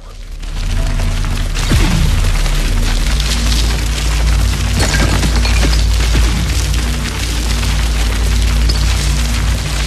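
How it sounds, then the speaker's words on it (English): In the sci-fi shooter Into Black, fireworks go off in a dense rolling barrage of booms and crackles, loud and continuous for about ten seconds. "Fireworks!"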